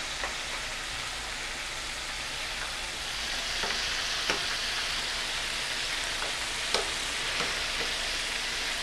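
Buffalo chicken wings fry in a pan with a loud, continuous close-up sizzle and spatter, scattered sharp pops and crackles over nearly nine seconds, without any talking.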